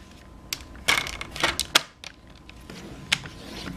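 Paper being scored on a paper trimmer, a series of short scraping and clicking strokes with brief pauses between them, close and fairly quiet.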